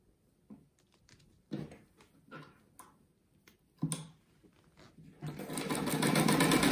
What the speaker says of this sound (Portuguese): Agora eu vou passar a costura em toda a volta dele